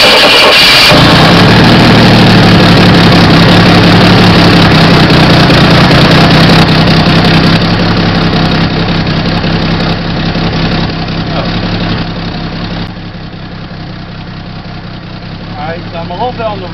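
A GM inline-six engine idles close by while the ignition timing is set, a loud steady rumbling idle that eases off somewhat toward the end, with a faint voice near the close.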